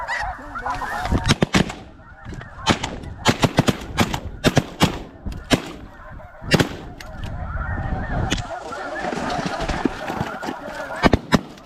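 Shotgun blasts crack out repeatedly during a snow goose hunt with masses of geese overhead, sharp close shots in scattered volleys over a constant loud honking of the flock, with a few voices.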